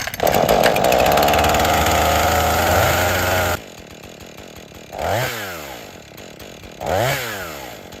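A chainsaw roars at a loud steady pitch, cuts out, then revs up twice in short rising bursts while idling between.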